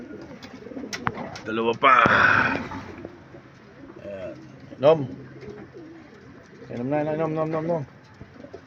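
Racing pigeons arriving at the loft during a training race coo close by in repeated throaty bursts, while someone talks excitedly throughout.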